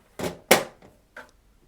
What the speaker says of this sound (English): go ahead and close this door